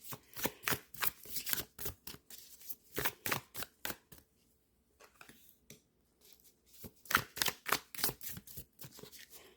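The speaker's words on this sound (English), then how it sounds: "basically I just shuffle until something pops out. If that takes too long, then I cut the deck." A tarot card deck is shuffled by hand in quick bursts of crisp riffling and slapping cards, with a short pause midway before another run of rapid, close shuffles.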